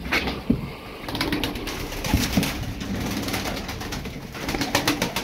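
Tumbler pigeons are released to fly outdoors, with soft cooing and scattered sharp wing claps and flutters at close range, some louder bursts standing out against a steady background.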